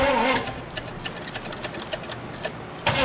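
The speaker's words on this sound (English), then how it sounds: "It's turning over slow like it's got compression." A one-owner 1974 Chevrolet 4x4 farm truck, abandoned for 15 years, cranking over slowly with a rhythmic labored chug that runs for about three seconds, loud and close.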